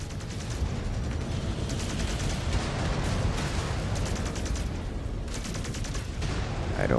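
Mech weapons blaze in the MechWarrior 5: Clans video game, a dense, continuous barrage of rapid shots and booming impacts, loud and unbroken throughout, with pulses of heavier fire.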